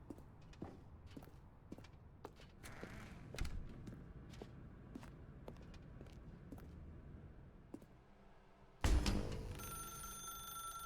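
A telephone rings in the video game The Stanley Parable Ultra Deluxe, a short, loud burst of ringing near the end, preceded by sparse footstep-like clicks in a quiet space.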